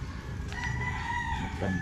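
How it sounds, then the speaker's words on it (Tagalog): A rooster crows once, a drawn-out call close by, over a low background rumble. "Ito yung mga manok natin."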